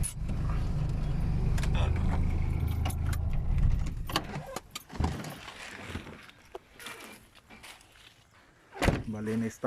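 Keys jangle and clatter at a construction project site, a dense metallic rattle over low rumbling for the first few seconds, then scattered sharper clinks and knocks, with a loud final jingle near the end.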